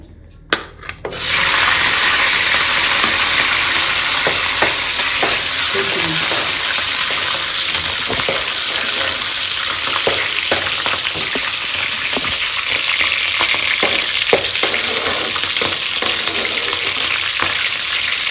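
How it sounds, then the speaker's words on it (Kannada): Chicken and chillies hit hot oil with a sudden loud sizzle that keeps hissing steadily up close, marked by occasional pops and stirring scrapes. "ಸೊ ನಾವಿವಾಗ ಇದಕ್ಕೆ ಮೆಣಸಿನ್ಕಾಯಿನ ಹಾಕೋತಾ ಇದ್ದೀನಿ."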